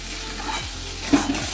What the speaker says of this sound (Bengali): ঢাকা দিয়ে দিয়ে কষিয়ে নেবো